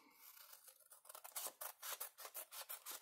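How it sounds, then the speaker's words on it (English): Scissors snip through a paper postcard in quick repeated cuts, a close, quiet, crisp rhythm with no voices. "And now we just cut it out quickly."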